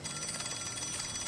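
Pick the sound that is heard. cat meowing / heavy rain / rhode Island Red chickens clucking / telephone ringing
telephone ringing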